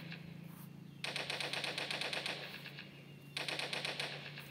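Rapid automatic gunfire from the Toilet Monster video game comes in two sustained bursts of fast, rattling shots, quiet and close, with a low background hum in between.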